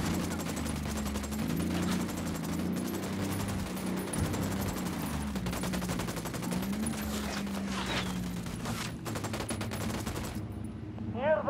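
Sustained gunfire in the open-world shooter Ghost Recon Wildlands, with rapid automatic bursts and scattered shots running steadily over a low game drone and music bed throughout.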